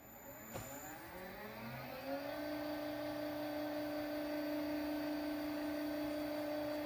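A Peter Pugger pug mill motor spins up in mix mode and settles into a steady, loud mechanical whir and hum that drones on without pause.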